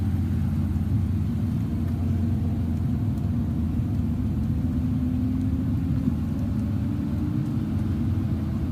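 Steady low rumble of a car driving along, engine and road noise continuous and fairly even from inside the vehicle, with no voices.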